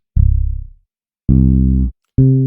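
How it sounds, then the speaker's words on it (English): Three real live bass one-shot samples from a soul sample pack play one after another: deep, round plucked bass notes, loud and isolated, each held briefly before cutting off, with short gaps between them. "So we've got bass one-shots,"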